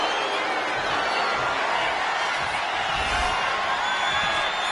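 A steady, dense roar of crowd cheering from a WWE 2K25 steel cage match fills the whole stretch, loud and unbroken, with faint commentary underneath.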